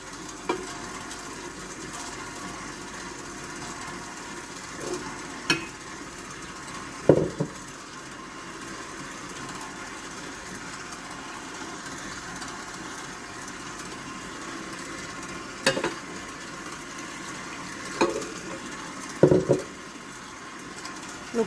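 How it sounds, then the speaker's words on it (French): A stand mixer churns slowly through baguette dough as water is poured in, a low steady motor hum with occasional knocks and clunks from the bowl scattered throughout. "on commence à battre tout doucement et on ajoute juste l'eau"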